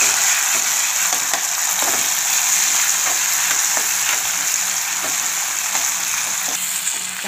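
Tomato sautéing in oil in a pan for a seela fish curry makes a loud, steady, close sizzle with faint intermittent stirring clicks, no voices.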